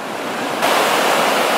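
Ocean surf rolling in along a sea otter's coastline, a loud continuous roar of breaking waves that swells louder partway through, with wind buffeting the microphone.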